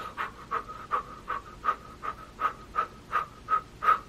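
A voice imitates rapid rhythmic panting, about ten short even breaths at a steady pace, close and fairly quiet, evoking breathing through labor during a home birth.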